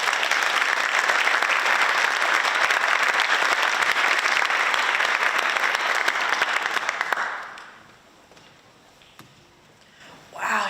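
An event audience applauds a speaker coming onto the stage at the Dirrum Festival in Canberra: dense, sustained clapping that fades out after about seven seconds, leaving quiet room tone before a brief sound at the end.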